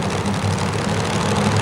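Supercharged, fuel-injected engine of a two-wheel-drive pulling truck at a 1991 Pennsylvania truck pull, a loud, steady low roar that holds without a break.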